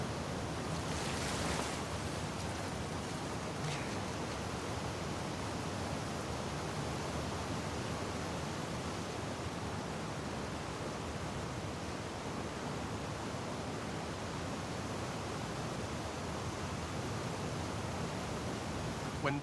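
Steady rushing water current echoing through the Seattle sewers in The Last of Us Part II, a continuous broadband wash that holds constant for the whole stretch with no voices.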